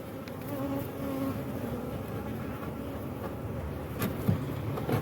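Honeybees buzz around a garden hive being winterized in November, a continuous close droning hum with individual insects passing by.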